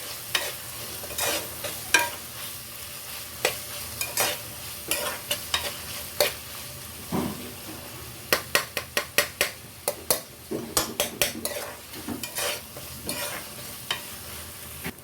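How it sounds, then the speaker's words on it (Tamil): Crushed ginger sautés in a pan with a low sizzle under a steady run of sharp spatula clinks and scrapes against the metal, some strokes spaced apart and others in quick bursts. No voices. "ஆட் பண்ணிவிட்டு இந்த பச்சை ஸ்மெல் போகிற வரைக்கும் இதையும் வதக்கிடலாம்"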